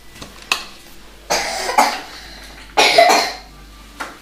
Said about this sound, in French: On met la main devant la bouche quand on tousse